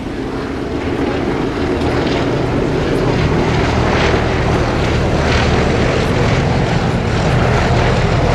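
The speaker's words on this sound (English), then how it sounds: "He's flying the white aeroplane there just as they turn their smoke on." A propeller aeroplane flying aerobatics roars loudly and steadily overhead at Duxford air show, its engine drone filling the air without a break.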